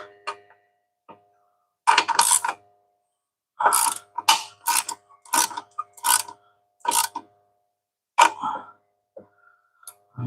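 Ratchet wrench tightening loose, leaking fittings on a Trans Am: bursts of quick metallic clicking in several separate runs with short pauses between, close and fairly loud, no talking.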